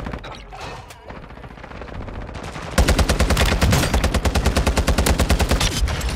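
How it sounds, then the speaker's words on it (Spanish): Video game gunfire starts as a low muffled rumble, then turns into a loud, steady automatic burst of rapid evenly spaced shots lasting several seconds. "Me están disparando."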